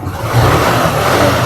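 A used Suzuki 125 Japanese motorcycle engine runs steadily and loud nearby, a continuous revving drone with a rough, buzzing low end and no talk.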